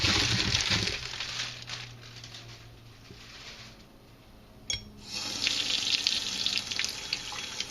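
Plums for canning are rinsed under a running kitchen faucet, with a steady splashing rush of water that eases off midway, then returns strongly with a few clunks and patters close by, with no talk.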